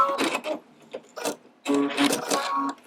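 A sewing machine sews a pin stitch in short, close bursts of clattering mechanical stitching separated by brief pauses.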